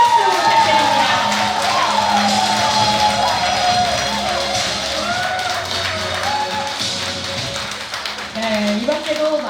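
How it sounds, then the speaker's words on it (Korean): Sustained applause from an audience at a Buddhist book-launch Dharma ceremony honoring a temple's head monk, dense and steady throughout with scattered voices and cheers mixed into the crowd noise. "여러분 큰 박수 부탁드립니다."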